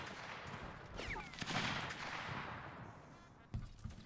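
Rifle reenactors firing muskets in a mock battle, a ragged series of cracking shots with echoing booms, outdoors and moderately distant, several reports spread across a few seconds.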